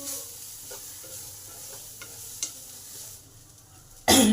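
Mashed banana flower with spices being stirred in a pan: a soft background sizzle with a few light spatula scrapes, ending in a sudden loud burst of frying noise.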